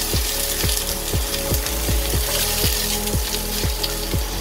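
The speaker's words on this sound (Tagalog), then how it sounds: "So, pag mainit na yung oil, tapat, lalagay naman natin ang ating onion." Onion sizzling in hot oil in a pan for pork afritada, a loud steady fry with a regular series of clicking knocks from stirring or the pan, no voices.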